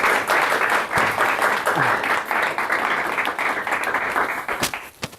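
Audience applause at a Spanish-language lecture on the Mudéjars and Moriscos of al-Andalus, a steady dense clapping from a full room lasting about five seconds before tapering off at the end.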